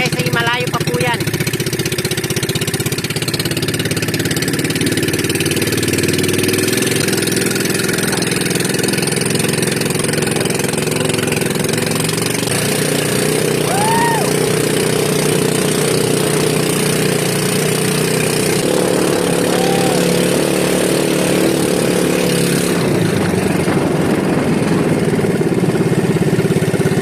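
The motor of a fast fishing boat, a loud steady engine drone running throughout, with light wind and water noise around it.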